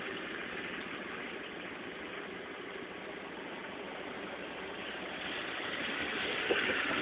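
A car engine idles steadily at a low, even rumble during a driving lesson, continuous and unchanging, with a slight rise in level near the end.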